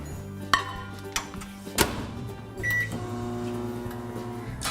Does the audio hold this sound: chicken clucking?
no